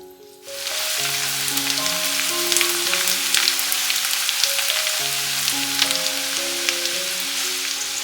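Finely chopped onions fry in hot oil until golden brown for an egg masala curry. A loud, dense, even crackling sizzle starts abruptly and holds steady under soft background music.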